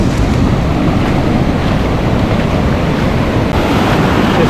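Ocean surf breaking at a Hawaii beach, a loud, continuous wash of churning waves with steady wind rumble against the microphone, no talking.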